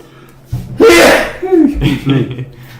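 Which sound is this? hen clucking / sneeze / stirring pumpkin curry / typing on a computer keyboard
sneeze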